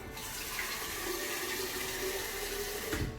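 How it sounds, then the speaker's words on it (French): Vegetable broth pours steadily over couscous ingredients in a continuous close liquid rush that stops abruptly at the end. "Et je vais mouiller à hauteur avec mon bouillon de légumes."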